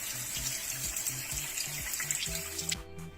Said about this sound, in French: mettre la cartouche sous le robinet pour finir de la purger